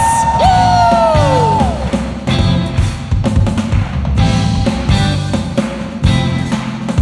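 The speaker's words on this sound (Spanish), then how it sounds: "Batería con un grito de júbilo para Dios." Congregation shouting and whooping for joy at a Spanish-language worship service, loud yells and cheers rising in repeated bursts over drums and music, with a sliding whoop near the start.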